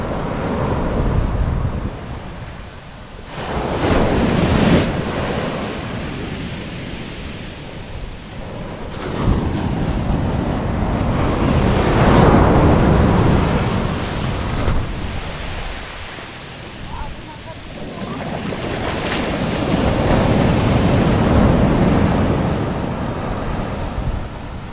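Strong surf crashes and rolls in repeated surges on a beach at Dingalan, with heavy wind buffeting the microphone throughout.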